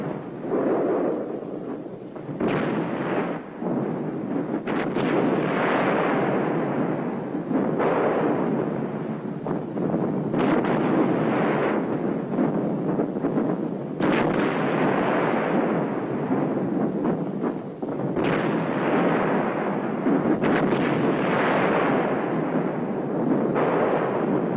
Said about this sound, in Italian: Osservate queste visioni riprese dai nostri operatori durante il bombardamento.